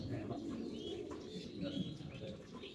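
Pigeons at a pigeon farm coo softly in soft overlapping calls, with faint chirps and a low background murmur across a few seconds.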